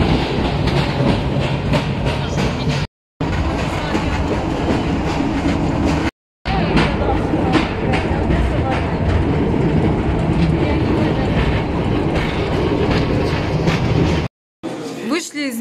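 A metro car on the underground line to the New Athos cave in Abkhazia rolls along loudly, with a steady rumbling roar and rhythmic wheel clatter broken by brief cuts, and voices occasionally heard.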